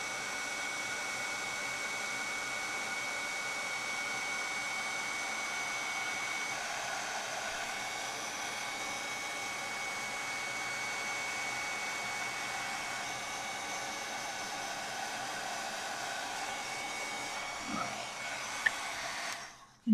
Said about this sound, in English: I'm going to grab my heat tool so we can heat set this.